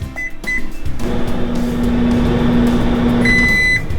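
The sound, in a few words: microwave oven running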